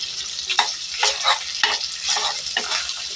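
Garlic sautéing in a pan for a chicken tinola, a close sizzle broken by about six rhythmic scraping stirs of a spatula.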